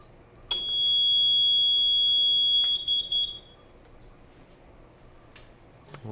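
A fire sprinkler control panel sounds a supervisory alarm tied to a deluge system control valve. It gives one loud, steady high-pitched electronic tone for about two and a half seconds, then cuts off, followed by faint clicks and handling noise.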